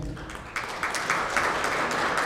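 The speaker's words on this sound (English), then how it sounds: "So truly give yourselves a round of applause" Applause from an audience at a Teacher of the Year ceremony, a steady dense patter of many hands clapping that swells slightly after the start and holds at an even level throughout.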